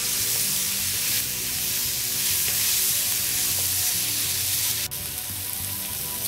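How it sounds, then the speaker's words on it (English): Tomatoes go into a hot pan for aloo mattar paneer, and the oil sizzles and crackles steadily and loudly throughout, with a brief stir or clink near the end. "And now we're going to put in the tomatoes."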